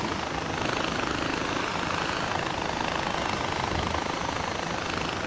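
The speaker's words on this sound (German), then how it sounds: "Auf dem Helikopter." Helicopter in the video game Far Cry 4 produces a steady, dense rotor and engine roar that fills the whole clip without letup and with no talk over it.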